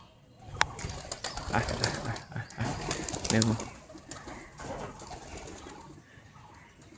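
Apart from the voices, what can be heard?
pigeons flying home and landing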